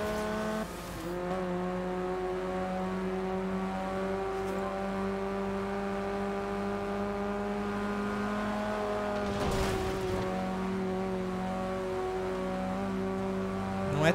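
A Mazda car engine drones steadily while driving in the racing video game Forza Horizon 2, holding a sustained tone with a brief surge and shift partway through, close and continuous.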